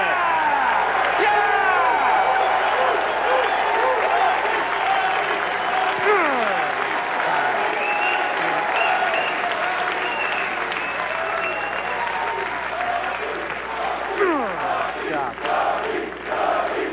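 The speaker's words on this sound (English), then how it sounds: "Overflow crowd at Siena College loves it." Overflow crowd at a professional bowling tournament at Siena College breaks into sustained loud applause and cheering, with whoops and shouts rising throughout and a sharp burst near the end.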